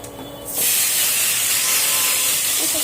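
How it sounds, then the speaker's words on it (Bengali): A loud hiss of frying bursts in suddenly as greens hit hot oil, then sizzles steadily and strongly close by. "কড়াইয়ের মধ্যে আর একটু পরিমাণ তেল দিয়ে ওর মধ্যে এবারে পুঁইশাকগুলো ভেজে নেব"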